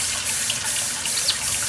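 Water runs steadily from a tap into a sink while a chick is bathed to clean a soiled rear, a constant close trickle and splash with no talking.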